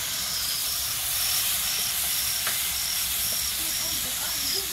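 Water poured onto frying chicken meat in a pan gives a steady loud hiss of steam that fills the whole stretch, with faint clinks underneath.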